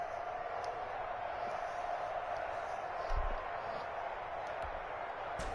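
Steady crowd roar from a stadium during an American football video game, a broad continuous wash of cheering that swells slightly near the middle, with commentary voices talking over it.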